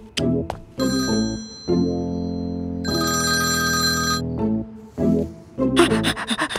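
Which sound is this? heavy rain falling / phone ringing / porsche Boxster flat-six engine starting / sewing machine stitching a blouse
phone ringing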